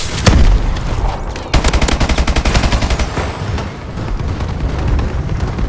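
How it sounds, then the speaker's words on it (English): An enemy bombing run in Call of Duty: Advanced Warfare, with a loud burst of explosions followed by rapid rattling gunfire and rumbling blasts, dense and close throughout. "Enemy bombing run overhead."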